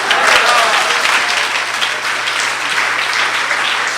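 A church audience bursts into sustained applause during a sermon, dense clapping that holds steady for several seconds with voices faintly mixed in.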